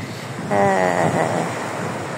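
Ocean waves washing onto a beach in a steady, close rush of surf, with wind buffeting the microphone and a faint tonal hum briefly rising early on.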